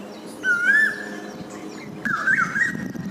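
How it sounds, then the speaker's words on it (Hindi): Koel bird calling outdoors, two clear rising whistled calls about a second and a half apart, fairly close and loud over quiet background. "बहुत ही मधुर आवाज़ है कोयल की।"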